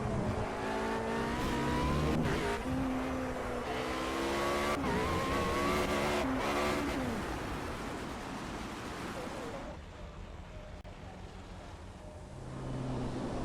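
A race car in the racing game Project Cars slides out of control, its engine whining and revving in changing pitch with tire scrub beneath, then the roar falls away to quieter rolling noise before picking up again.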